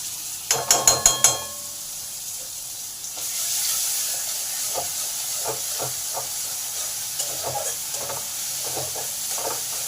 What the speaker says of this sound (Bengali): রসুনটাকে ভালো করে ভেজে নেব